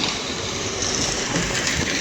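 Aurangabad Express 17253 pulling out of Kotla station, a steady broadband rumble of rolling coaches and wheels on rails heard close from on board, continuous with no voices.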